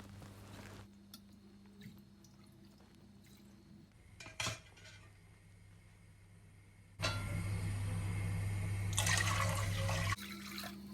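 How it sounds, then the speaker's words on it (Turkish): Meat broth pours in sloshing bursts through a strainer into a deep pot, with metal clinks of a ladle and strainer between pours, over a low steady hum. "Derin bir tencereye süzgecimi koyuyorum. 7-8 kepçe et suyu koyuyorum."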